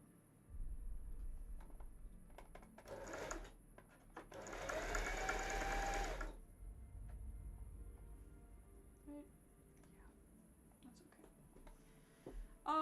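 A sewing machine works on a cosplay costume in short bursts, then a longer steady run of a couple of seconds up close, with quiet ticking and handling noises in between.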